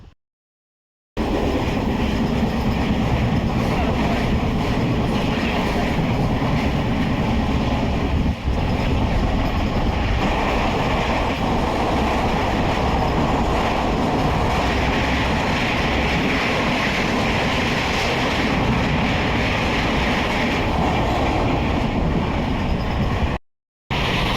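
Mandovi Express train running on the Konkan route toward Mumbai, recorded from inside the carriage: a steady, loud, continuous rumble and rattle of wheels and wagon for over twenty seconds, with no talk.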